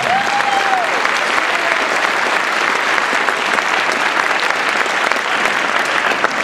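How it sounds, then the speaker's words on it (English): Audience applause at a Giffords-Kelly congressional debate hosted by the Sierra Vista Area Chamber of Commerce: a loud, dense, steady clapping crowd filling the hall for several seconds, with no speech over it. "so you all deserve a round of applause."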